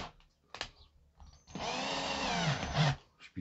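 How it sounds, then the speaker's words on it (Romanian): An electric drill with a twist bit bores a hole, a loud close whirring motor run of about a second and a half after a few short clicks and handling knocks, then spinning down. "O mașină de găurit."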